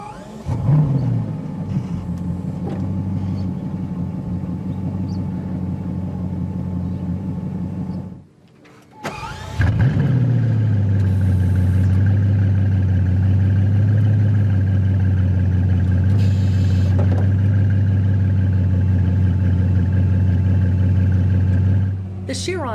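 A 2017 Bugatti Chiron runs, drops briefly to near silence, then fires up with a sharp burst and settles into a loud, steady low idle, with no talk over it.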